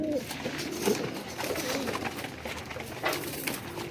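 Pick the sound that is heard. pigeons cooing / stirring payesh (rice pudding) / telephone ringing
pigeons cooing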